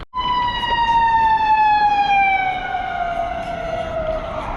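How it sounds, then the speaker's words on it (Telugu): A fire engine siren on a Chicago road, one long loud wail sweeping slowly downward in pitch as the vehicle passes close by, with no voices over it. "ఇప్పుడు ఫైర్ ఇంజిన్ వెనకాల వస్తుంది."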